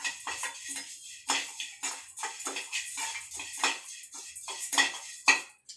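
Peppercorns and spices being stirred as they roast in a pan, a busy run of dry metallic scrapes and clinks from the spoon against the pan, close and continuous, with no voices.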